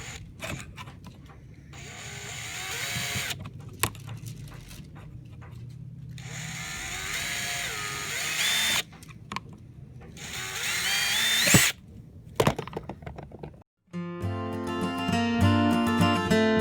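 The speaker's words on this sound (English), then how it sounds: "So I just drilled a hole in the side, and then I drilled it kind of sideways" A power drill bores a hole into the side of a small air turbine housing. It whines in loud, sustained bursts broken by brief pauses, and a steadier hum follows near the end.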